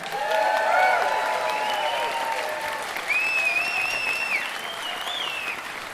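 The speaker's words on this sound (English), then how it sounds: "let's have another round of applause for Jim Irving and the Tiger High Windmill Ensemble" Audience in a hall applauding a high school wind ensemble at a marching band spring showcase, a continuous wash of clapping with some cheers and whistles rising over it.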